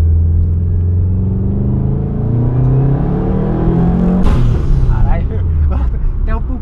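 A 400 hp Subaru WRX accelerating hard, its engine roaring loud and close from inside the car with rising pitch, a sharp gear-shift break midway, then climbing again.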